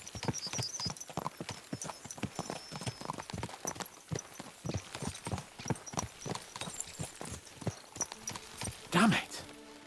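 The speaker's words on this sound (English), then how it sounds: "Let's really spur these horses on, eh?" Horse hooves clip-clop in a quick, steady galloping rhythm in Kingdom Come: Deliverance 2, close and loud throughout, with a brief louder burst near the end and voices faintly present.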